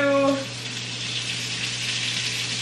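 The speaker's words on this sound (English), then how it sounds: "You hear that sizzle?" A steady, close hiss of olive oil frying in a pan, with a brief voice at the start before the crackling sizzle continues on its own.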